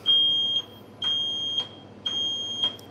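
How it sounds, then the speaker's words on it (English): A smoke alarm sounds three long, loud, piercing beeps in a steady pattern, each lasting about half a second with short gaps between them. "a smoke alarm is going off"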